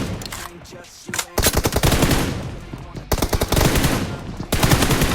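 Rapid automatic gunfire rattles through a PUBG Mobile team deathmatch, loud and close, in dense sustained bursts broken by brief pauses.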